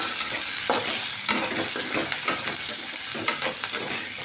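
Small onions fry in a pan for a chicken dish, a continuous close sizzle with repeated scraping and clinking as a spoon stirs them.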